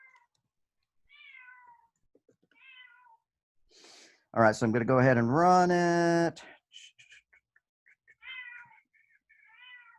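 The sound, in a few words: cat meowing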